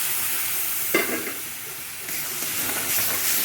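Tomato paste sizzles and steams in a hot frying pan, a steady close hiss with a sharp burst as it hits the oil and a brief stir, no talking.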